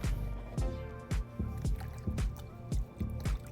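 Thin sliced parsnip rounds drop into a bowl of water in a steady series of soft splashy plops, roughly two or three per second, close up with no talking.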